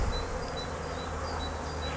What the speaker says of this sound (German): Jo, Bienen sterzeln ein.